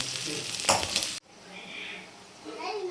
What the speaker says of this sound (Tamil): வெங்காயம் இப்போ நல்லபடியாக வதங்கியிருக்கு